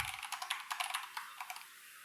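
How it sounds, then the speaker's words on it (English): Rapid keystrokes on a computer keyboard while coding a Go restaurant-management backend, a steady run of close, crisp clicks heard alone with no talking. "so I'll have to do a little bit of typing also"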